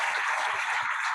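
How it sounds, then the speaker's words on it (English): Steady, dense applause from a conference audience, a continuous wash of clapping with no gaps. "Another round of applause for the please."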